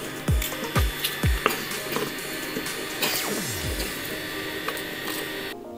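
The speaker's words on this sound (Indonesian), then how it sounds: "kita haluskan bumbunya dulu ya" Spices ground by hand with a stone grinder in a home kitchen; a series of close, sharp knocks and scraping strokes, several in quick succession early on, then a few more spaced out.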